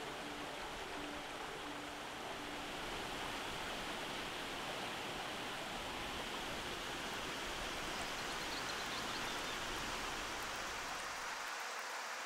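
Älgafallet waterfall roars in a dense, steady rush of falling water, loud and continuous throughout with no voices.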